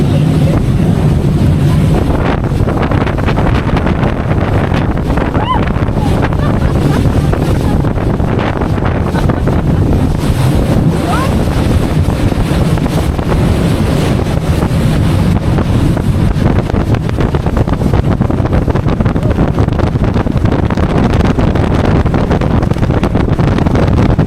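A speedboat with sport mode switched on roars at speed off Torquay on the English Riviera, its engine drone buried under constant loud wind buffeting and splashing water, steady and unbroken throughout.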